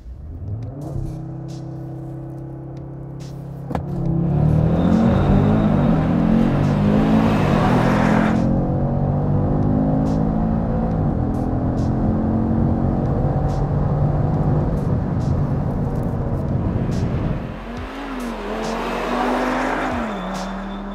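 An Audi RS3 launches down a long tarmac straight for a quarter-mile run, its engine droning and rising through the gears with brief shift dips, loud and close throughout before easing off near the end.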